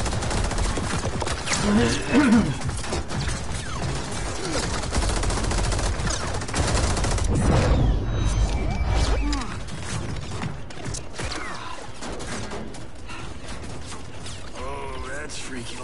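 Rapid gunfire bursts and clattering impacts in the Mortal Kombat 11 fighting game, dense and loud over a busy game soundtrack, easing off midway, with a brief murmured voice.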